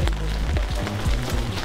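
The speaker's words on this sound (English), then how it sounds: "They say it doesn't rain in Africa, they're lying. It's pouring. Yeah, look at how much rain." Heavy rain pours down in Chefchaouen, Morocco, a dense, steady hiss of downpour that fills the short stretch at a constant level.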